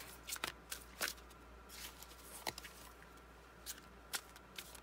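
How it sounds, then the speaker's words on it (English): Tarot cards being shuffled in repeated quick riffles and taps, close and fairly quiet over a low steady hum, with no talking. "Just going to shuffle a few more times"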